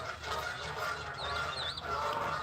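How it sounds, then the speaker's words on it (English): Geese honk in short calls amid a crowd of geese around two fighting birds, set against constant outdoor background noise. "Two are fighting, and there's a crowd of geese around them."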